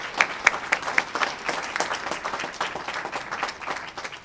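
Applause from the crowd at a Seattle mayoral bill signing for building emissions legislation, honoring a speaker, with crisp individual claps at first that blend into a steady, full round of clapping.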